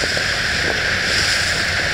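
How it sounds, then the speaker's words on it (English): A 1976 Skipjack 24-foot open runabout running on the water makes a loud, steady rush of hull and spray over a constant engine drone. "24-foot Skipjack is moving along quite nicely today"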